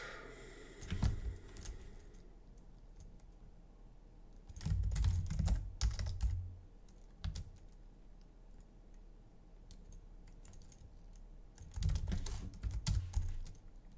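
Bursts of rapid typing on a computer keyboard while writing code for a programming contest, with clusters of close clicks separated by quiet pauses.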